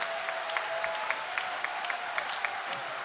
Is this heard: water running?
no